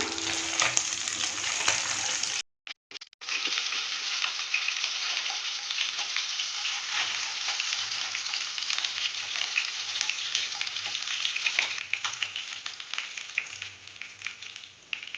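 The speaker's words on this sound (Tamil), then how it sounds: "இன்னொரு சைடு நல்லா ஃப்ரை ஆனதுக்கப்புறம் நம்ம எடுத்துடலாம்" Fish pieces frying in hot oil for fish chukka give a loud, dense, continuous sizzle that cuts out briefly near the start and then carries on unbroken, with no voices.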